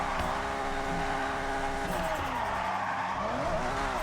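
Car in Forza Horizon 6 drifting with the rear tires slipping, a loud close engine whine bending up and down with throttle while tires skid and squeal steadily throughout.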